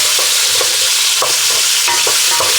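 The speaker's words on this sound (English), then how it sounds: "And I like to just get some bacon in there for a little bit." Bacon frying loud and steady in a pot for pork belly and red kidney beans, with continuous dense sizzle broken by repeated scraping stirs and soft clacks.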